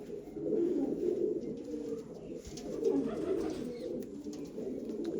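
A rare Lalchini pigeon hen coos in soft, continuous low rolling phrases close by, steady throughout with no talk.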